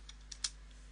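A few quick keystrokes on a computer keyboard, three light clicks in about a second, close and clear over a steady low hum.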